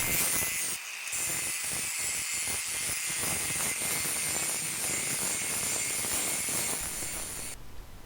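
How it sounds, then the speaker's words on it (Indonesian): An angle grinder works a forged badik blade, a continuous loud high-pitched whine and hiss with a few rough bursts early on, running alone before cutting off near the end. "Kita gerinda dulu."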